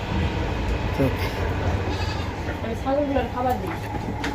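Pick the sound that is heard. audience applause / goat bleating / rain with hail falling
goat bleating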